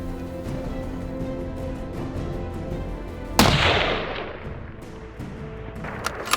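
A single sharp rifle shot cracks during a desert sheep hunt in Mexico, a sudden loud report that rolls off into a long fading echo across open terrain after a stretch of quiet wind and movement.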